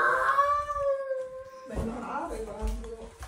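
A dog howls in a long, drawn-out wail lasting over a second, followed by a scramble of mixed noise and whimpering.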